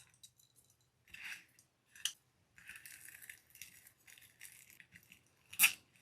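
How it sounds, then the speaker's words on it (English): Scissors snipping off excess zip ties on a flower mesh door wreath, several separate quiet cuts and light plastic clicks with short pauses between them, ending in one louder, sharper snip. "Just make sure you cut off all the excess zip ties."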